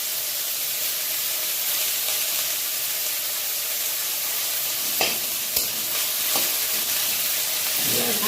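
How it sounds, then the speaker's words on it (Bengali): Chilli and hand-cut ginger frying in a small amount of hot oil for a fish bread pakora recipe: a steady, close sizzling hiss, with a few sharp clinks from stirring near the end and no voices. "ভাজা ভাজা হোক"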